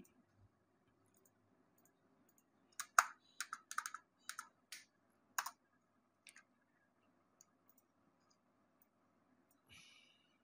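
Bursts of typing on a computer keyboard while entering text into an MS Word document, a quick run of close, crisp key clicks in the middle of an otherwise quiet stretch, then a few isolated taps.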